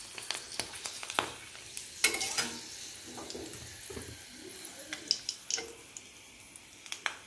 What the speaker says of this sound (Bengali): ছেড়ে মুচমুচে করে ভেজে নেব।